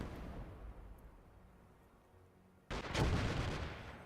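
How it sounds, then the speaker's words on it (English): A mortar fires in the Gates of Hell war game: one sudden, heavy boom cuts in after a quiet, low rumbling stretch, then leaves a loud, sustained roar and crackle that lingers to the end. "There goes the mortar and the cover."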